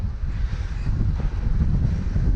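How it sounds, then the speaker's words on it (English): Gusty wind buffeting a cyclist's microphone on an open road near Wigton, a steady low roar that swells and dips, loud and close with no voices. "this is certainly blocking the wind out because it's quite gusty"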